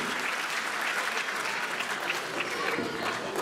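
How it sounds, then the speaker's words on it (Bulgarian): Steady, dense applause from a crowd of fans of the Lokomotiv Plovdiv football club at a Christmas event, sustained and even throughout with no clear breaks. "Аплодисменти за феновете на Локомотив Пловдив в Атланта."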